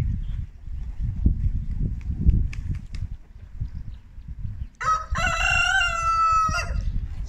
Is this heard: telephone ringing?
no